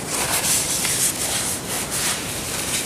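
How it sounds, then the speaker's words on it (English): Oil being wiped off the spindle of a PM-950V milling machine with a cloth: soft, close rubbing strokes that swish in a loose rhythm, several passes in a few seconds. "Just kind of wipe that clean."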